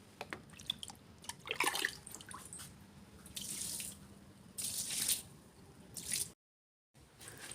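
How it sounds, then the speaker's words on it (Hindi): Water splashing and pouring onto a freshly swept outdoor floor in the early morning, coming in several bursts of splashing and trickling, fairly close, with a brief gap of silence near the end. "मेरी बाहर की झाड़ू लगा ली थी मैं पहले ही, बस पानी डालना बाकी है।"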